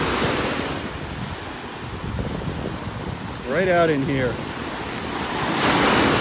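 Ocean waves wash continuously onto a beach at North Naples, Florida, a loud broad roar with some wind buffeting the microphone, while someone speaks briefly partway through.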